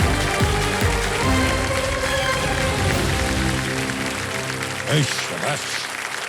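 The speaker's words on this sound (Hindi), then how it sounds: "तालियां बजते रहे पूजा जी के लिए।" Studio audience clapping for a contestant on the KBC quiz show, a broad wash of applause under music and a voice speaking over it, fading somewhat toward the end.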